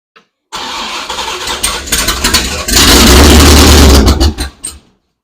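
A Ford Galaxie engine cranks and catches, then runs and revs loudly up close for several seconds before cutting off abruptly.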